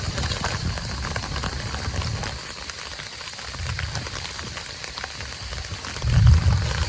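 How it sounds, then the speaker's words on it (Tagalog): Heavy monsoon rain pouring in Quezon Province, a dense steady hiss of drops on surfaces with low rumbling swells, continuous and moderately loud with no voices. "Ayan, naulan naman siya oh."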